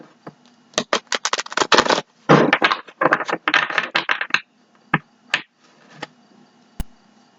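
Tarot cards shuffled by hand in quick bursts of crisp riffling and slapping, then a few scattered single card taps near the end, close and fairly loud with no talk.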